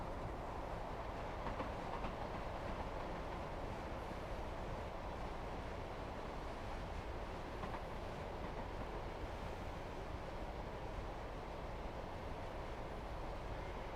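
Train running on the Midland Main Line in Train Sim World 4, a steady low rumble of wheels and motor with faint rhythmic rail clatter throughout, continuous and even in level.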